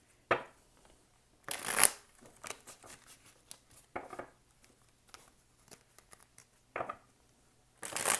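Tarot cards shuffled in several separate bursts of riffling and patter, close and fairly crisp, with quiet pauses between the shuffles.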